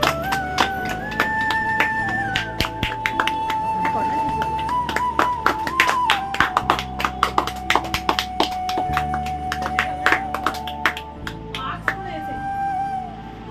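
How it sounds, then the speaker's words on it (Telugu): Students clap together in an irregular run of sharp, close claps that keeps going for several seconds over a sustained musical tone, with voices talking alongside. "క్లాప్స్ కొట్టండి అందరూ."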